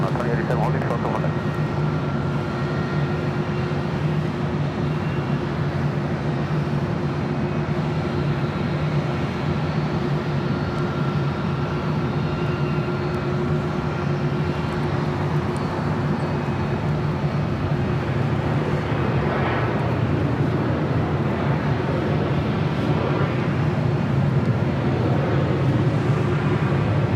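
A Condor heavy jet airliner waiting near the runway at LAX, its engines giving a loud, steady low roar and whine that holds throughout, with people talking over it.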